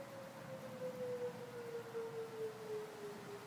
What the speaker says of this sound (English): there's tornado sirens